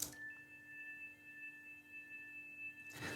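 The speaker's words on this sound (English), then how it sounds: "I just had like this very high note playing continuously, and I added an LFO, just making it come and go basically" A very high, thin synthesizer tone held continuously, its level rising and falling gently under a slow LFO, faint and alone over a quiet background before a soft burst of noise at the end.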